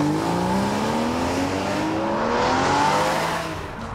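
A Porsche Boxster S accelerating hard, its engine note climbing steadily through the revs, loud and close with a rising whine, easing off at the end.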